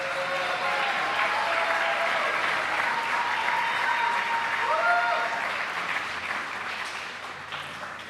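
Sustained audience applause for 30-year service award honorees at an awards celebration, dense clapping from a crowd that fades slightly near the end.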